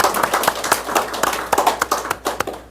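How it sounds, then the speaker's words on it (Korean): Church congregation at a Sunday service clapping in thanks, a sparse, close set of sharp hand claps with an uneven rhythm, individual claps standing out before it stops. "하나님 아버지께 감사의 박수를 드리겠습니다"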